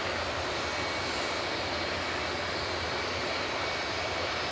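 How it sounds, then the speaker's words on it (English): A Singapore Airlines Airbus A350-900 touches down at Manchester Airport after arriving from Singapore, a dense steady jet roar with broad hiss filling the short stretch, moderately loud and unbroken. "Singapore Airlines just touching down from Singapore"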